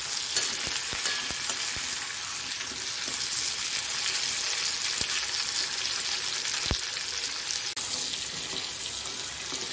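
Brinjal pieces sautéing in oil in a pan for an oil-brinjal kuzhambu, a steady broadband sizzle with scattered sharp clicks of a spoon on the pan, close and continuous with no talking.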